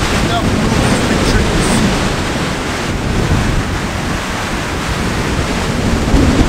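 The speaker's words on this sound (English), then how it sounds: "this wind has been blowing like this since last night" Strong wind roars steadily and loudly, buffeting the microphone with a constant broadband rumble and rush that never lets up.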